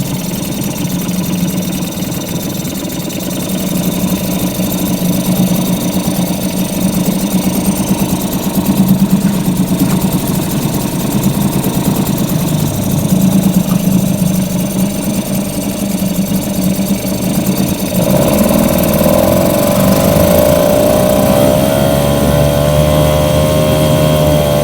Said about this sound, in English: Nice little outboard.